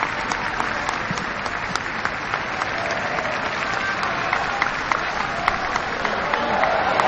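Stadium crowd of Nigerian fans applauding a South African football player leaving the field during a women's continental semi-final, with steady dense clapping and crowd noise throughout, distant and broad.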